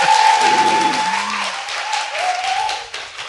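An audience at a Korean political talk show applauds a provincial governor candidate, a brief burst of clapping with some voices and tones over it that fades slightly toward the end.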